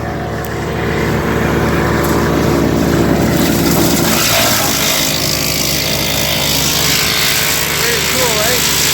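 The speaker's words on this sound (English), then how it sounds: "Got the chipper running." A wood chipper running and chipping wood, a loud continuous engine drone close by that turns rougher and busier partway through as material is fed in, with a voice speaking over it.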